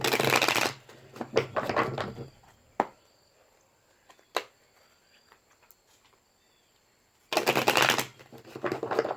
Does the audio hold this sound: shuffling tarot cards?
yes